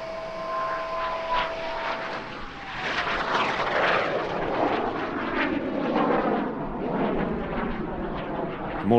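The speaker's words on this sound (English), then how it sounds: "certainly the first time I've seen it performed by a solely jet-powered aeroplane" Solely jet-powered aeroplane flying a stall turn at an airshow in Leszno: a loud, continuous roaring jet engine sound with a falling tone early on, sweeping and surging in intensity without any speech.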